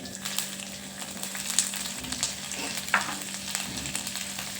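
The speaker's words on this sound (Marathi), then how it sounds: "1 चम्मच जिरं टाकूया आणि त्याच्यामध्ये बारीक केलेला लसूण," Cumin seeds and finely chopped garlic sizzle in hot oil for a garlic fenugreek dish, a close, continuous crackling fry with a few sharper spits and faint stirring.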